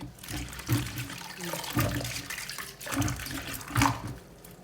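Fresh asparagus rinsed under a running kitchen tap, splashing water with uneven bursts and gurgles as the spears are turned in the stream, close and moderately quiet, no talking.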